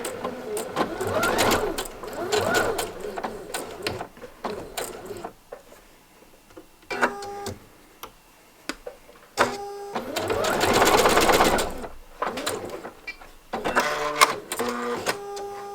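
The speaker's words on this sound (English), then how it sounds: "So I'm going to sew to that seam with my needle in the seam. I'm going to pivot and sew down the other side." A sewing machine stitches a seam on a knit V-neck, running in repeated bursts of rapid mechanical whirring with short pauses between them, close and clear.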